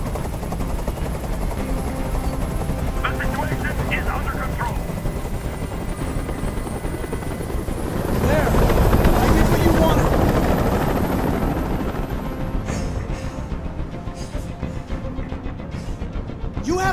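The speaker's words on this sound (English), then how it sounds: "Tell that helicopter to get out of here." A helicopter's rotor drones loudly and steadily, swelling louder midway as if passing close, with some sharp bursts and background effects around it, in the video game Detroit: Become Human.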